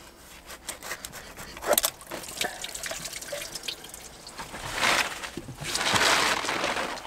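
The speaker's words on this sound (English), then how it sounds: "A little bit of water is going to drain out." Water draining out of a Mercury 3.0 litre I/O boat engine as hoses and plugs are removed during winterizing, a faint irregular trickle and splash with soft rubbing sounds that swells louder toward the end.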